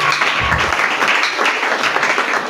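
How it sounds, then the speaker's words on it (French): A church congregation at a worship service applauds loudly, a dense, sustained wash of clapping that stays at full strength throughout, with faint voices mixed in. "Acclamons très fort pour la parole de Dieu"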